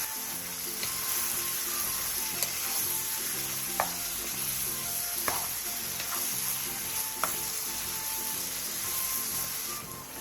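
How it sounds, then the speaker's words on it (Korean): Webfoot octopus and sliced onion stir-fry over high heat with a dense, steady sizzle. Light clicks of a utensil against the pan come every second or so throughout. "쭈꾸미와 양파를 넣고 쭈꾸미가 익을 때까지 센 불에서 볶아주세요."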